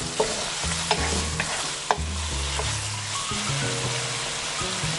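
Chicken pieces cook in a hot pan, a steady sizzle broken by repeated spatula stirs and scrapes with a few sharp taps, fairly close and without talk.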